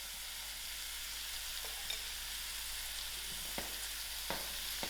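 Tomatoes and salt fry with masalas in a pot for dhal curry, giving off a steady, close sizzling hiss that is broken by a few light taps of a spoon against the pan.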